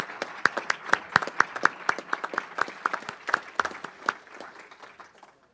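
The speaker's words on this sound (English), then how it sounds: "let's give them a round of applause to say thank you" An audience at a Rotary Club meeting applauds its sponsors, giving dense, steady hand clapping with sharp individual claps that carry on for several seconds before tapering off at the end.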